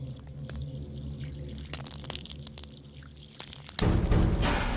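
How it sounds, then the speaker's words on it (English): Water is poured onto cracked glacier ice in Antarctica. Scattered small cracks and clicks sound over a quiet background, then a sudden, louder rush of pouring water splashes across the surface. "if I pour a little water on it, I should be able to hear a crack"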